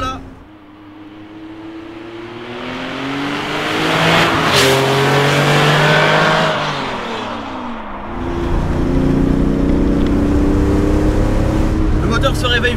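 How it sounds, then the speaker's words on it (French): A Porsche 911 Carrera 2.7 RS Touring engine winds up through rising revs, drops back briefly as it shifts, then climbs again to a strong, high-pitched roar, heard from inside the car. "Le moteur se réveille vraiment à partir de 5000 tours minute."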